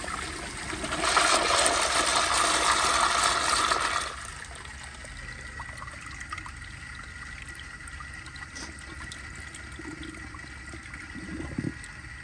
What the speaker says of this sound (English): let's just give it a flush and see how it does.